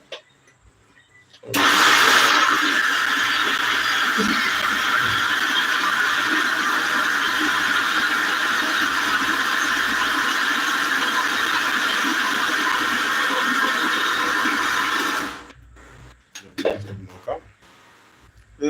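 An electric mixer grinder grinds soaked urad dal with water, giving a loud, steady motor whir that runs continuously for about fourteen seconds before cutting off, followed by brief clatter.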